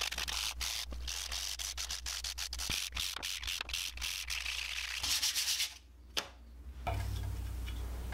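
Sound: sanding wood

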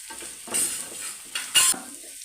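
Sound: stirring curry leaves frying in a pan for egg thoran

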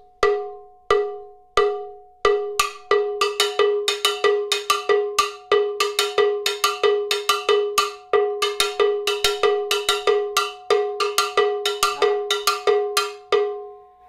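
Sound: cowbell (campana) played in steady time

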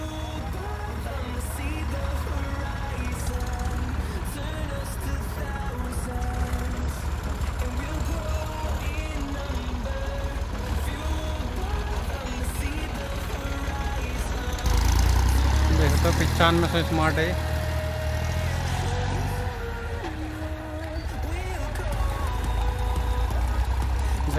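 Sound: tractor engine running at low RPM, Massey Ferguson/Swaraj

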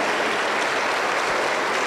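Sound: congregation applause in church

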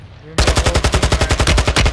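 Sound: gunfire in a gun battle, from the video game Warzone 2

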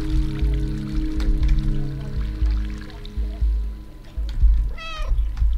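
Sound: cat meowing in the video game Stray

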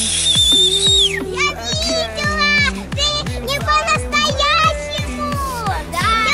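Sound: whistle blowing

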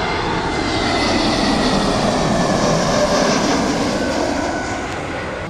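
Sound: Wizz Air plane with CFM LEAP engine landing at Fiumicino

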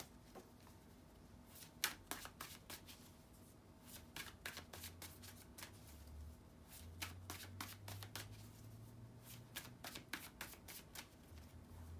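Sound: shuffling tarot cards

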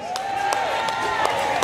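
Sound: concert crowd applause

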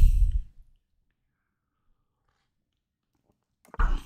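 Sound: slurping coffee

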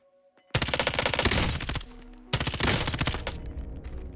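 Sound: gunfire, sniper shots in video game Call of Duty Warzone

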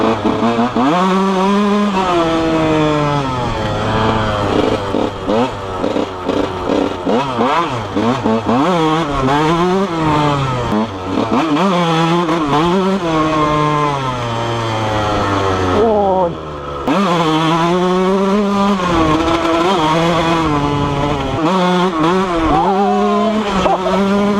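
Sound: Honda CR 125 two-stroke motorcycle engine running

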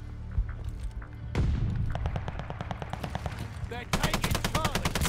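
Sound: gunfire from a shooter video game, Call of Duty Vanguard

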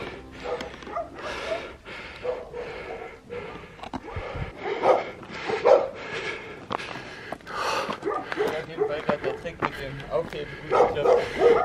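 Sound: dogs barking

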